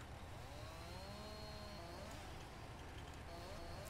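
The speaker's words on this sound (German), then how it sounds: "Dann sägen wir auch einmal hier durch." A faint chainsaw revs and whines, its pitch rising and falling as it saws through a fallen tree during storm cleanup in Landwirtschafts-Simulator 19, heard alone at low level.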